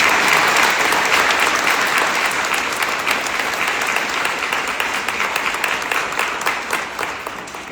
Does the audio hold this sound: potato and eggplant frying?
no